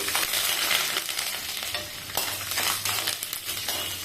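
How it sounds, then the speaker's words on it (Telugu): Curry leaves and urad dal frying in oil for a bendakaya fry, a loud crackling sizzle with brisk spatula stirs scraping the pan, up close and with no speech. "వేగిన తర్వాత నెక్స్ట్ కరివేపాకు, తర్వాత తెల్లవాయలు వేసుకొని బాగా వేయించుకోవాలి"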